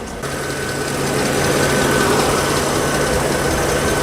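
A Mercedes-Benz S500L sedan engine idles after an overhaul, with the air conditioning running, a loud, steady low rumble and hum heard up close, with no talk.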